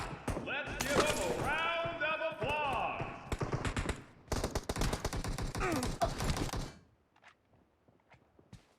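Rapid bursts of automatic gunfire in PUBG Mobile, dense crackling volleys over and between stretches of voices, then cutting off into near silence.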